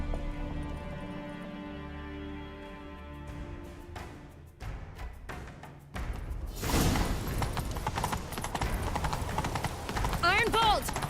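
A horse gallops in The Witcher 3, its rapid clip-clop hoofbeats rising loud and steady in the second half after music and voices. Talk continues over the hooves.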